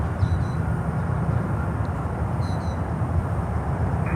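An American Airlines Airbus A321ceo at Miami airport gives off a broad, steady jet roar, distant and constant, with faint tonal whines over the rumble and no talk.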